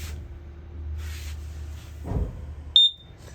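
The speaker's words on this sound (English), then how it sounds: "If it's carbon monoxide, you're going to hear that little sound, which is the 4 beeps 2 times in a row." Carbon monoxide and LP gas detector in a 2018 Forest River Cherokee Grey Wolf 29TE travel trailer gives one short, sharp electronic chirp, close by, after quiet room noise and faint knocks.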